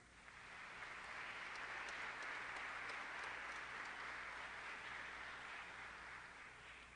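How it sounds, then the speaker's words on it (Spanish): An audience at a formal signing ceremony welcomes guests with sustained applause, a dense, even wash of clapping heard from some distance that holds at a steady level throughout. "Les damos la bienvenida con un afectuoso aplauso."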